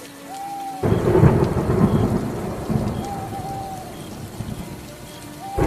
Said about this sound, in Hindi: बारिश अब भी रुक रुक कर बरस रही होती है।